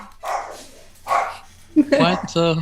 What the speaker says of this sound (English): As the husky barks